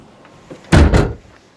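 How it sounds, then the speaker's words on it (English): Rear door of a Citroen Berlingo wheelchair-access micro camper van pulled down and shut, a single loud close-range thud with a short rattling follow-through, alone in a quiet setting. "get into the van and pull that door down"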